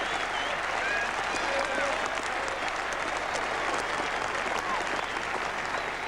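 A packed Saturday cricket crowd at Old Trafford in 1981 applauds Ian Botham in a sustained, even roar of clapping from a distant stand, with a commentator's voice faintly over it.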